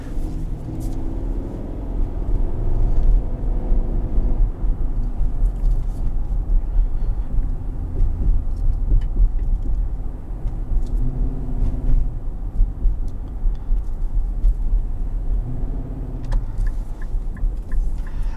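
Interior drive in a 2021 Infiniti QX80 with its 5.6 engine: a loud, steady low rumble of engine and road noise that swells and eases with throttle, close and continuous, with no speech.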